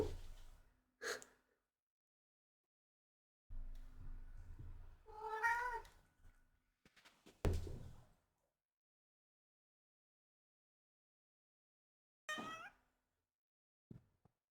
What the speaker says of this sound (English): I'm gonna leave you now with my kitties for a little while.